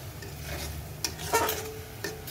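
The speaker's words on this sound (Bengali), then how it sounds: "এবার এইটাকে খুব ভালো করে আমাদের কষাতে হবে।" Spiced egg masala is stirred and sautéed in a pan, making a continuous low sizzle broken by a few sharp scraping clicks of the spoon against the pan.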